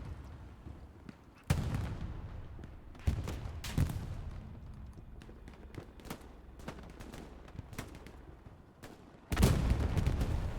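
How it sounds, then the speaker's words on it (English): Satchel charge blasts and gunfire in a Hell Let Loose match at Carentan, with several loud broadband explosive bursts scattered across the clip over a steady battlefield rumble; the last burst is the heaviest, matching a tank being destroyed. "It was a satchel that took out the 76."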